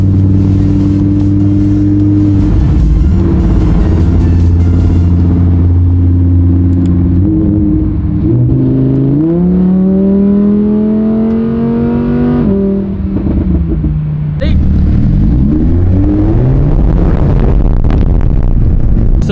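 A Lamborghini Huracan engine revs loudly up close and drives off through Brooklyn streets, the pitch climbing through gears, dropping on a shift, then rising again.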